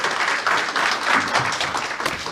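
An audience applauds a panelist at a lecture event, a steady broadband wash of many hands clapping that holds evenly from start to finish without pause.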